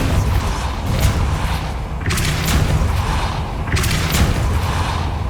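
Depulso spell cast in Hogwarts Legacy, a forceful whooshing blast repeated three times over a loud, dense game soundscape with deep rumbling underneath.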